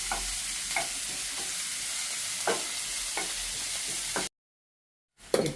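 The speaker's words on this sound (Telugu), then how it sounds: "ఇప్పుడు కొంచెం వేగాయండి ఉల్లిపాయలు, కొంచెం వేగాయి కదా" Onions frying in a pan until light brown, with a steady close sizzle and a few sharp stirring scrapes, then a brief silence before the sizzling resumes loudly.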